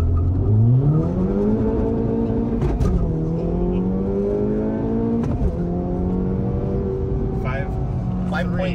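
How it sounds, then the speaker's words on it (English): A 2024 Acura Integra Type S launches hard, the engine revving high and climbing steadily through the gears with brief shift breaks, loud and close. "This is my very first time launching this car."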